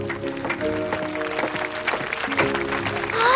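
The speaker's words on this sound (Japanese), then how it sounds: "盛大な拍手でお迎えしましょう。" A school audience gives warm applause to welcome a new music teacher, a steady patter of clapping under background music.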